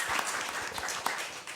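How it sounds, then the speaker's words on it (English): Brief burst of audience applause at a social media panel event, dense clapping from a crowd filling the whole moment. "One more round of applause for the awesome Hotel McDonald and CBC for making this happen."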